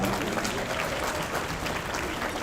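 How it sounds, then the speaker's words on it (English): An audience at the Gold Standard of Optimal Aging awards ceremony applauds the honorees, a dense, even wash of clapping from many people that holds steady throughout at moderate loudness. "Let's give our honorees one final round of applause."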